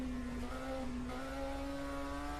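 A 1979 DRM Division 2 touring race car with a normally aspirated engine drones steadily at high revs at the Diepholz airfield circuit, a sustained, even engine tone with no talk.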